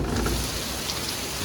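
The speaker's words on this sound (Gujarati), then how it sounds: "લગભગ 5:30 નો આવો વરસાદ ચાલુ થયો છે" Heavy rain pouring down onto a waterlogged road in the evening, a dense, loud and continuous hiss with a deep low rumble beneath it.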